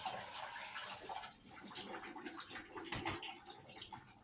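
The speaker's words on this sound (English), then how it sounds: "we'll rinse these off too" Water runs steadily in a kitchen sink while pulled pork sandwich ingredients are rinsed, a fairly faint, continuous splashing wash with small uneven surges and no talking.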